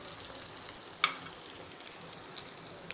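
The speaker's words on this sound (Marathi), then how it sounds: "हे बघा आवाज तुम्ही बघू शकाल, असे सगळ्या साईडने आपल्याला सगळे आप्पे असे भाजून घ्यायचे आहेत" Sabudana appe fry in oil in an appe pan, a soft steady sizzle with small crackles and one sharper pop, heard close and alone.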